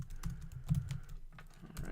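Keys clatter on a computer keyboard in quick, uneven bursts of close clicks while a commit message is typed, with a short pause midway and no talk.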